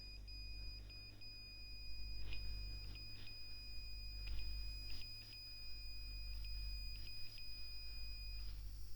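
Faint electronic beeps from a buzzer controlled with pyFirmata sound in an irregular pattern over a steady low hum, short tones repeating several times before ending.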